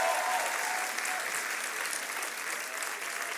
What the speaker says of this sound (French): Vous pouvez applaudir plus fort que ça quand même.